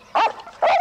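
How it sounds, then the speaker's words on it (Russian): A dog gives two short, close barks, a bright yelp followed by a second bark after a brief pause, sounding alone with no talking. "Я буду звать эту собаку Шариком или Бобиком"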